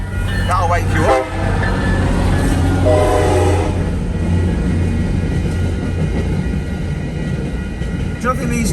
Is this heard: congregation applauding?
no